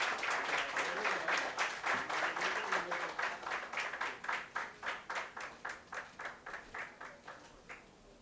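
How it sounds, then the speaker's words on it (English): An audience at a career guidance program applauds a guest speaker with dense, sustained clapping that gradually thins into slower, scattered claps before dying away. "let us have a round of applause once again for Mr."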